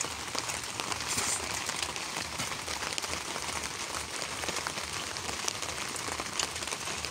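Rain falling at night outdoors, a steady dense patter on surfaces with scattered closer drips, continuous and fairly soft.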